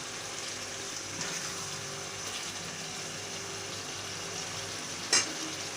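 Frozen minced meat topped with spices fries in a pan with a steady, soft sizzle that runs through the whole clip. One brief clink is heard near the end, and nobody talks.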